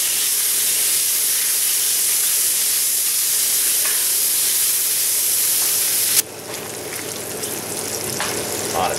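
Bacon sizzles loudly in a Finex cast iron skillet, a steady dense hiss and crackle that drops abruptly in level partway through, then carries on softer with small pops.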